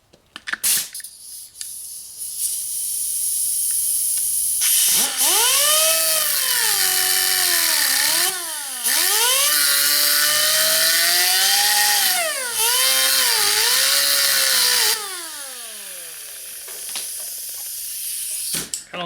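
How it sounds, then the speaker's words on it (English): A die grinder with a cutting wheel saws slits into a bolt during a Bullitt Mustang header install, a loud continuous high whine with shifting pitch that dips and recovers as the wheel bites, broken by a few brief pauses. "So now I'm going to go ahead and put the slits into the bolt."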